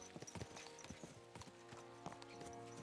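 Horse hooves clip-clop at a steady trotting rhythm in the video game Kingdom Come: Deliverance 2, close and fairly loud over a constant low background hum.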